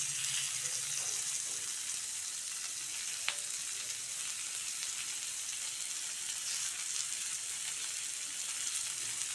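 Paneer tikka sizzling in a pan, a steady, fairly quiet hiss of frying that runs the whole time with a brief clink near the middle.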